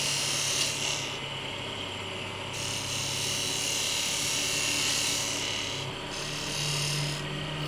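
A woodturning lathe cuts a wooden pencil holder, rounding off its bottom, giving a continuous rasping, scraping tool-on-wood noise with a steady motor hum beneath that shifts slightly as the cut changes.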